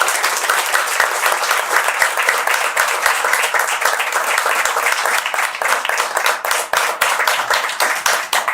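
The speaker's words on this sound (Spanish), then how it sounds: "aqui peço mais uma vez uma salva de palmas" A crowd applauds steadily, with dense clapping that holds at a constant level throughout.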